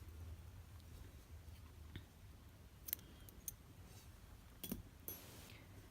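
Scissors snip through crochet yarn in a few brief, soft, close clicks over a quiet background.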